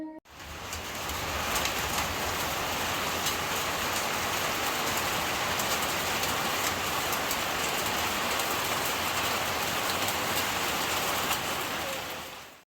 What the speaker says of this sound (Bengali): হঠাৎ করেই শুরু হলো বৃষ্টি পাহাড়ের বৃষ্টি